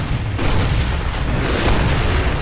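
Gunfire from the Gears of War 2 video game, a loud, dense and continuous barrage of booming, low-heavy blasts that holds steady for the whole stretch with no voices over it.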